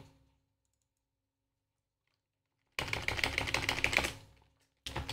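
Computer keyboard typing while entering a pack command in Pure Data, heard as a dense burst of close clicking keystrokes after a long silence, then a brief second burst at the end.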